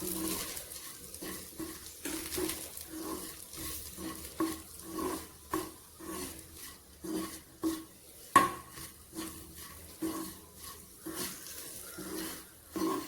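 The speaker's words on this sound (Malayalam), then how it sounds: "മുളക് പൊടി ചേർത്ത് വഴറ്റാം" Turmeric and chili powder being sautéed in a pan for a quail egg and potato roast: steady rhythmic scraping and stirring over a low sizzle, with occasional clinks of a spoon against the pan, close and moderately loud throughout.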